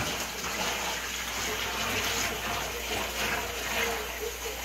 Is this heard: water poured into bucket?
yes